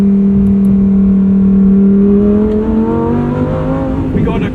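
A 631-horsepower Lamborghini Huracan in sport mode revs hard toward redline, its engine note climbing steadily before an automatic upshift drops the pitch and it pulls again, loud and close throughout.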